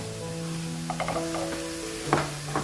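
Onions fry and brown in a pan for a spicy beef dish. A soft, continuous sizzle sits under a steady background hum, with a few light clinks and scrapes of stirring.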